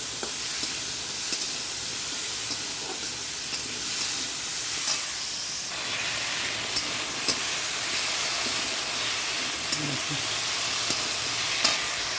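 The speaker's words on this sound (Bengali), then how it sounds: "এবার এর মধ্যে আলুটা ঝিঙেটা আর ইয়েটা কাঁচকলাটা দিয়ে দিলাম" Potato, ridge gourd and green banana frying in a pan, giving a soft continuous sizzle and hiss with occasional light stirring clicks, moderately quiet and without speech.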